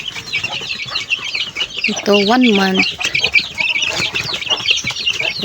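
Young month-old pet chicks and a hen in a backyard brood, with soft clucks and chirps throughout and one clear drawn-out call in the middle, heard close under someone speaking.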